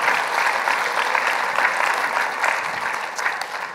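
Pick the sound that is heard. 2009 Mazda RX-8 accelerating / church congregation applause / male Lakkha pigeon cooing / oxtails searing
church congregation applause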